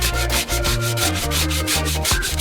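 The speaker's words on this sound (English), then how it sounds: "Sand it off a little bit." Wood for a backyard bike ramp built off a deck is sanded by hand in quick, rhythmic back-and-forth rasping strokes, close and fairly loud, with no voices.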